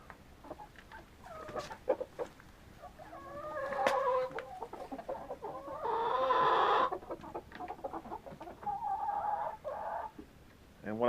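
Backyard hens cluck close by in bursts and short runs, with a louder stretch of overlapping clucking midway and quieter calls between.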